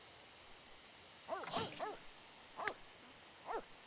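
Several dogs in The Sims 3 give a quick burst of yips and short barks, then a couple of isolated barks a moment later, fairly faint and without talk.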